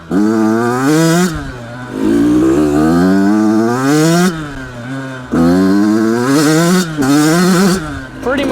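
A Yamaha YZ85 dirt bike engine revs repeatedly, rising and falling in pitch in several loud surges with brief dips between them, close and continuous.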